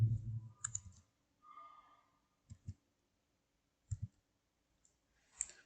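Sparse keystrokes on a computer keyboard, a few isolated clicks and short double taps separated by pauses, quiet and close.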